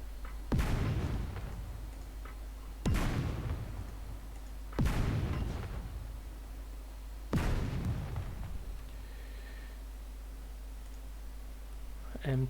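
Mortar rounds launch in a tactical war game, four heavy booming thumps spaced roughly two to two and a half seconds apart, each with a short decaying tail over a low steady hum.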